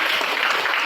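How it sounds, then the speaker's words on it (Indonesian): Classroom applause from students, a dense continuous patter of clapping at steady loudness filling the short moment. "tepuk tangan."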